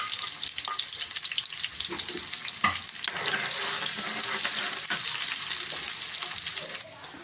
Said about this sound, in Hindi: अभी इसमें प्याज डाल देंगे। इसको सिर्फ सोते करना है, ब्राउन नहीं करना प्याज को, और साथ ही अदरक डाल देंगे।